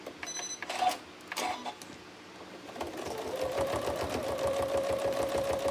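A sewing machine stitches slowly through thick layers of fabric on a trapunto cushion: a few hesitant starts with clicks, then a steady, rapid needle chatter that builds and holds near the mic.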